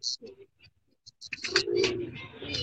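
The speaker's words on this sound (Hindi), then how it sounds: "ये तमाम कबूतर जो हैं काली आंखों के, काली नोकों के हैं" Pigeons with black eyes and black beaks coo in short bursts at close range, a low murmuring cluster that thickens toward the end, with a person speaking briefly in between.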